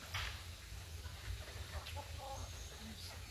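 Heritage chickens cluck softly in a small remaining flock, short scattered calls over a steady low rumble of background noise, fairly faint and unhurried.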